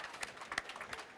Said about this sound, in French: ça peut s'applaudir